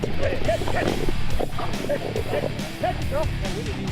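A hunting dog barks and yips at a wild hog during a Florida hog hunt, with repeated sharp barks over loud, busy outdoor noise and commotion.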